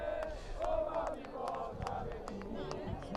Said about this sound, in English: It's the local crowd enjoying this final